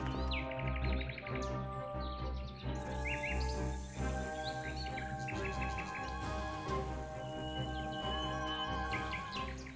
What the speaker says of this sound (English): Noisy sparrows are not excluded,